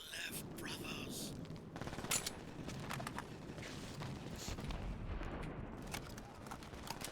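SMG fire in the video game Brink during a co-op security mission comes as faint, scattered bursts of quick shots set well back in the mix, with a player talking quietly over it.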